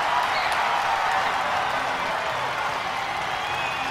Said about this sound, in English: Please give a round of applause for Punanders